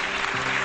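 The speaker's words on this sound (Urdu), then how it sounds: "بہت ساری تالیاں زیبا آپا کے لیے" Studio audience applause greets guest Zeba Apa on a Pakistani morning talk show, a dense burst of clapping from many hands, loud and continuous through the short moment.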